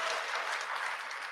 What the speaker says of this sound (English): Let's give a round of applause for our 6